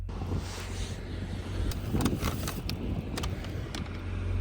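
Strong desert wind buffets a car, a steady low rumble with gusty swells and occasional sharp knocks, fairly loud and constant, with no voices.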